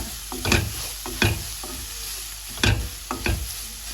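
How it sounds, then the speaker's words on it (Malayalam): Chopped onion with salt stirring and frying in a pan for clam meat, a steady sizzle broken by several loud scraping stirs of the spoon, close and clear with no talk. "അതിലേക്ക് ചെറുതായി കൊത്തി അരിഞ്ഞ് വെച്ചിരിക്കുന്ന സവാള ചേർത്ത് ഇളക്കി കൊടുക്കണം"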